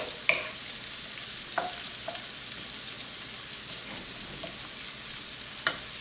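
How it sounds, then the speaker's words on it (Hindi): Onions frying in a pan for lauki kofta curry, a steady broadband sizzle with a few sharp scraping clicks as a spoon stirs them, close and alone without talk. "तो अच्छे से चलाते हुए इसको पका लेंगे।"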